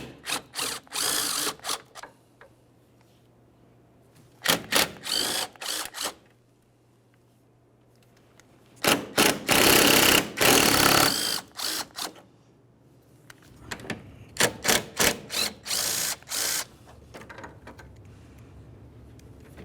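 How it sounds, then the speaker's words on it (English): A power tool spins out 10mm mounting bolts from a Nissan Altima front bumper bracket, giving several short, loud whirring bursts separated by quiet pauses, with one longer run in the middle. "we'll continue on by removing 4 10mm headed mounting bolts"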